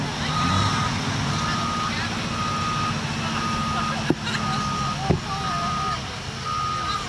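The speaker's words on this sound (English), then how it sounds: "here comes the other Mack Superliner" A 1985 Mack Superliner semi truck with a V8 diesel idles steadily at a fire company tractor pull, its low engine drone continuous beneath reversing beeps and a couple of sharp clanks, with a voice over the loudspeaker.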